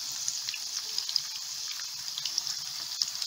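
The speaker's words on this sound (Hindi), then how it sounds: "ये अब हम कढ़ाई में समोसे फ्राई कर लेंगे" Samosas deep-frying in hot oil in a kadhai give a steady, quiet hiss and fizz, with tiny crackles and pops scattered through it and no voices.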